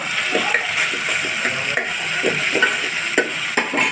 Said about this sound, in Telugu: ఆయిల్ కొంచెం ఇలా ఆనియన్స్తో పాటు కలిపి వేసుకుంటే టేస్ట్ బాగుంటుంది